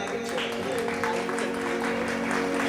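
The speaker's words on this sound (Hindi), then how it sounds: "तो जोरदार तालियां।" An audience at a Bhagavat katha religious gathering applauds, a dense steady patter of many hands, with a droning tone and voices underneath.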